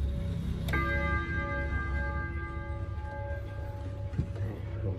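An Odo 24 wall clock with a single gong strikes once, a sharp metallic chime whose warm, bright tones ring out and slowly decay over several seconds in a quiet room.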